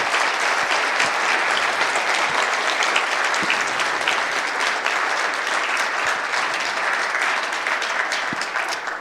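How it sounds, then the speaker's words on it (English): A conference audience claps for the event sponsors in steady, dense applause that holds at full strength throughout, with no talk over it. "a big round of applause for our sponsors"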